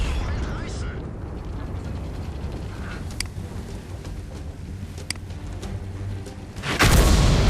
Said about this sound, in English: Artillery hits me.